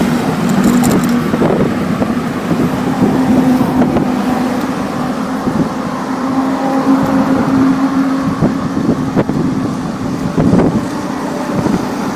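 Steady road traffic rumbles past on a highway in South Korea, heard from a bicycle with constant wind buffeting the microphone and a continuous engine drone throughout.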